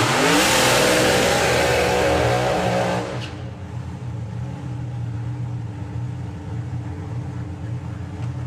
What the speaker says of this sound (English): I've never heard a burnout sound that angry before.